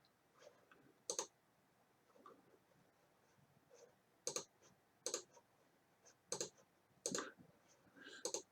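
A computer mouse clicks through a RightBooth games menu, with sharp, close single and double clicks spaced irregularly over a quiet background.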